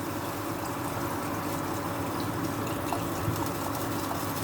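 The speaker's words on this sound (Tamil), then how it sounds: "இப்போ தண்ணி ஊற்றிடுங்க. ஒரு 300 ml இல்லைனா 400 ml வரைக்கும் தண்ணி ஊற்றிடுங்க." Water poured into a cooking pot for mutton sukka gives a steady, even splashing and filling wash that holds at a moderate level throughout, with no one talking.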